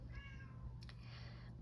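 A cat meows a few times nearby, drawn-out and whiny, over a low steady hum.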